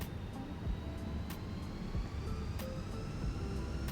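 Airbus jet engines spool up in Microsoft Flight Simulator, a steady faint turbine whine with a rising tone over low engine rumble, punctuated by a few soft clicks.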